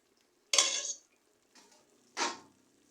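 A spoon stirs seasoning into broth in a pot in two louder scraping, clinking bursts with a softer one between, close and otherwise quiet.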